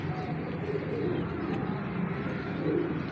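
Indoor pigeon cooing in a low, continuous purring murmur, several birds overlapping at close range, filling a steady bed of soft throaty calls without clear pauses.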